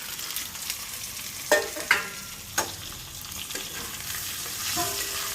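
Boiled potatoes stirred in hot oil tempered with cumin and asafoetida, giving a steady close sizzle broken by a few sharp scrapes and clacks of the spoon against the pan.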